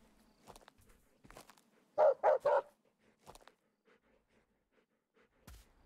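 A dog barks in the Animal Shelter Simulator video game, three quick loud barks in a burst at mid-clip, with soft footsteps and faint game sounds around them.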